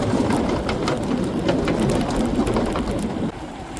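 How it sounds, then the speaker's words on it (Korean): Heavy rain pours steadily during a cycling trip, a dense continuous wash of drumming drops at close range with occasional sharper splatters, no voices, easing slightly near the end. "비가 너무 많이 와서 이제 헬멧에 있는 물이 뚝뚝 떨어진다."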